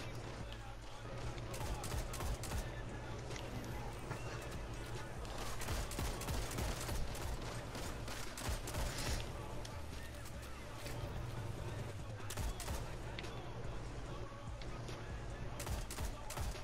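Rapid bursts of enemy gunfire in the video game Destiny 2, sharp repeated shots crackling throughout over steady game background noise, with voices talking over the action.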